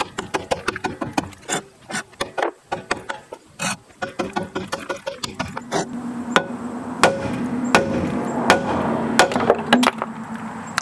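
Sharp metallic hammer blows strike repeatedly on a rusted brake drum of a 2005 Toyota Camry, irregular at first, then settling into steadier hits over a rising background hum.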